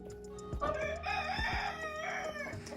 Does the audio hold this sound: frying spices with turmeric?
no